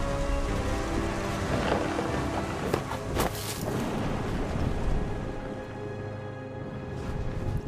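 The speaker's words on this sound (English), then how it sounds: "Thunder sounded much too close and full of angry power." Steady heavy rain pours in a thunderstorm in the video game What Remains of Edith Finch, with a loud rumble and crack of thunder breaking through midway before the downpour continues.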